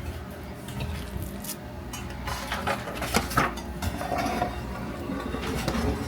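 A baking dish is handled in a home kitchen during meatloaf prep, giving soft, intermittent clinks, knocks and scrapes of cookware over a faint room hum.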